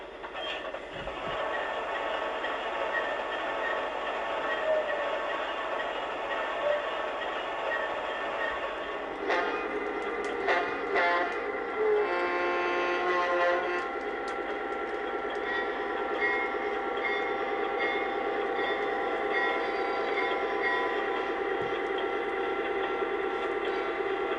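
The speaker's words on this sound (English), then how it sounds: "Norm operates locomotives from the late 30s and early 40s." Vintage Lionel model train locomotives from the late 1930s and early 1940s run along toy track, giving a steady rolling rumble with clicking wheels that holds loud and close throughout, with metallic clatter rising midway.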